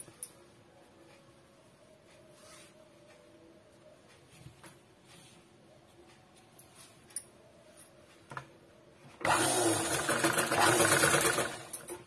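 A sewing machine stitches a joint in a garment's leg. Faint ticks and handling noises come first, then a loud, steady run of stitching starts near the end.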